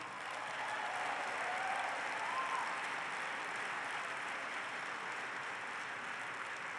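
Audience applauding during a speech by U.S. Ambassador to Israel David Friedman, a sustained, steady round of clapping from a large crowd heard at a slight distance for nearly seven seconds, with no talking over it.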